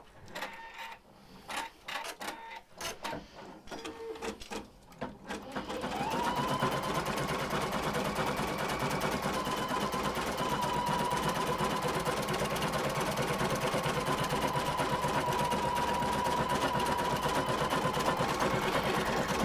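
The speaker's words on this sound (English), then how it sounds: "This is a back stitch that's stitching out." An embroidery machine stitches out a back stitch design with a steady, fast mechanical hum and needle chatter. Scattered clicks and handling come first, then the machine runs continuously and evenly at close range.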